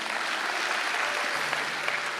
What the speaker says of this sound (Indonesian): Kasih tepuk tangan buat Allah kita.